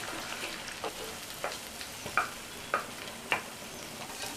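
Egg scrambles in a pan on a low flame for Maggi noodles, a quiet, even sizzle with a few spatula scrapes and taps spaced through the middle, close but soft, and nobody speaking.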